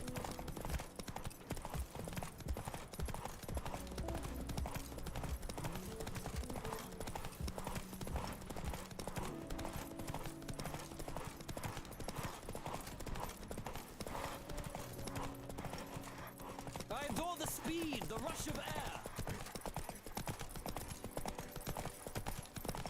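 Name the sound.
horse galloping in a video game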